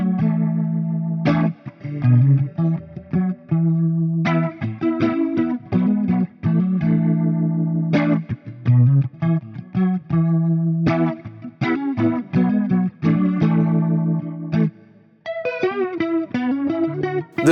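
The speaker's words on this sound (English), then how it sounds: "The sounds and tones that you can get out of this guitar are surprisingly versatile" Electric Gibson guitar with an Explorer-style headstock played alone, chords and riffs through chorus and distortion effects, loud and continuous with a brighter melodic run near the end.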